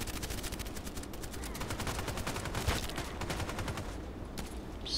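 Rapid automatic gunfire in the online shooter Contract Wars, a steady stream of quick shots throughout, fairly faint and somewhat distant, with a brief pause near the end and no speech.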